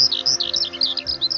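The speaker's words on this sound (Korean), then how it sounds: "종달새가 다시 우짖었다." Caged skylark singing in a rapid run of high, bright chirps and trills, close and clear over a faint steady background hum, with no voices.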